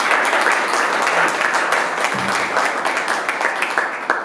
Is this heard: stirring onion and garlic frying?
no